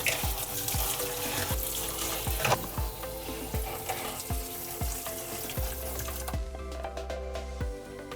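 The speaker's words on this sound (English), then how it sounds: "clean it out in the sink and wash off as much mealybugs that I see" Tap water runs steadily into a sink while a Hoya Chelsea's roots are washed to clear mealybugs, a loud continuous splashing hiss with repeated rhythmic knocks and clunks beneath it, then the flow eases near the end.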